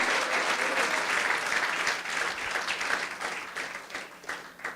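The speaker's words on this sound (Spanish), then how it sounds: "Dale un fuerte aplauso." Church congregation applauding loudly and steadily, a dense wash of clapping that fills the room and tapers slightly toward the end.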